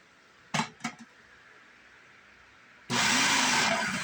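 A food processor fitted with a slicer blade whirs loudly and steadily through tomatoes, starting abruptly after a few brief knocks and clatters and running on at full strength to the end.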